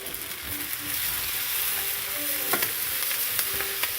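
A pot of pasta water bubbles and hisses steadily on the stove, with occasional clinks and sharp pops over the constant rolling boil.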